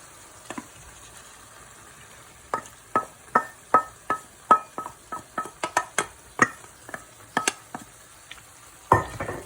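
Tomatoes are stirred into eggplant already frying in a pan, with a faint sizzle under a series of sharp scraping and tapping strokes from the spoon against the pan, quiet at first, then steady and rhythmic, with a louder clatter at the end.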